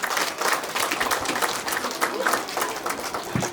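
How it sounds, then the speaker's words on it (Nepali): A village gathering in Kavre claps for a friend from France, a dense, continuous round of many hands at moderate level, with a crowd murmur and faint voices underneath. "उहाँलाई पनि एकछिन ताली बजाइदिनुहोस्।"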